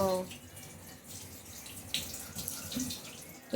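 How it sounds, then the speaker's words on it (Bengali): Running tap water splashes into a sink while dinner plates are washed at home, a steady soft rush with a brief louder burst near the end. "আমি একটু জল দিয়ে দিই ওইখান থেকে নেবে"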